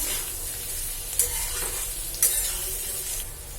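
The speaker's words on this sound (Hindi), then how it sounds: "अब इसमें हम डाल देंगे जिंजर गार्लिक पेस्ट। इसे 1 मिनट तक भून लेंगे।" Ginger garlic paste frying with already fried potatoes in a pan gives a dense, loud, continuous sizzle close by, broken by two brief sharp stirring scrapes, with no voices.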